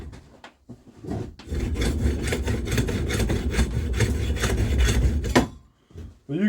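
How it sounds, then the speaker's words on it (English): A hacksaw cuts through a steel knife blank for a drop point hunter in fast, even back-and-forth rasping strokes, loud and close, running for about four seconds after a couple of short starting strokes. "I just use a hacksaw to get through these."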